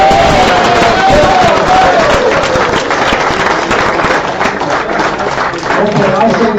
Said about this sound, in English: I want everybody to give Cecil a big round of applause.